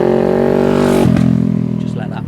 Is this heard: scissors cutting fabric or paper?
no